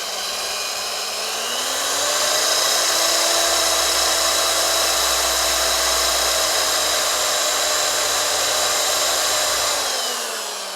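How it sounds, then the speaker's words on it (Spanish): An electric drill bores holes into metal tubes for a homemade TDT television antenna, a loud whining motor that spins up, holds a steady high pitch for several seconds under load, then winds down, close and alone. "Hacemos la perforación en ambos tubos."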